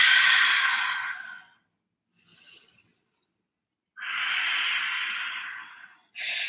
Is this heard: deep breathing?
yes